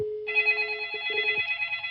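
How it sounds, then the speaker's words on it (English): A customer's phone rings through a computer telephony setup with a virtual phone, giving a steady electronic ring tone that holds alone and continuously after a brief low tone at the start. "Here is the customer's phone ringing"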